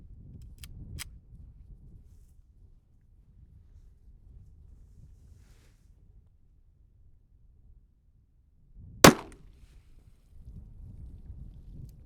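An RMR 115gr Nuke bullet is fired into red silicone outdoors, a single sharp, loud shot standing out against faint wind and low background noise in an otherwise quiet scene.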